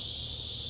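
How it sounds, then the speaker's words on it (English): Cicadas drone outdoors near O'Hare Airport, a steady high-pitched continuous buzz filling the background, with no talk. "Definitely hear the cicadas out there."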